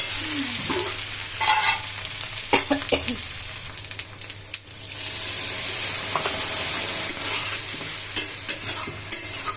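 Potatoes fried with spice powders in a pan for a spicy Padma pangas fish curry, stirred with a utensil: steady close sizzling with repeated scraping stir strokes, loud and continuous with no talk.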